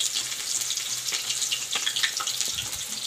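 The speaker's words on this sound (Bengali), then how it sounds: "যেমন মনে হচ্ছে ওই পেঁয়াজ ঢেলে নিচ্ছে" Onions poured into hot oil hiss and sizzle in a steady, watery crackle, close and fairly soft, with a few brief clicks and no voices.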